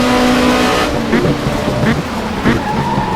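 A race car engine in the Race 07 WTCC game drones loudly and continuously, close up, with shifting pitch and slight tire noise as the car is driven around the track.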